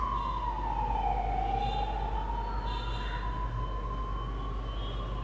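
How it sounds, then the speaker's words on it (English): An ambulance siren wails steadily at middle distance, a single long rising and falling tone over constant low traffic rumble, with no talk. "Ambulance."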